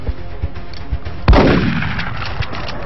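A single loud gunshot rings out from a weapon in the video game XCOM: Enemy Unknown, with a sharp crack and a short decaying tail over quiet game ambience.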